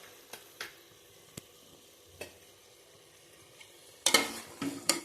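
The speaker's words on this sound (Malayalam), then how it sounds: "ഇനി ഇതിലേക്ക് നമ്മൾ മുട്ട ചേർത്ത് കൊടുക്കാം." Eggs stirred into a thick curry gravy for an egg kurma. Light spoon taps come first, then a louder burst of sizzling and stirring near the end.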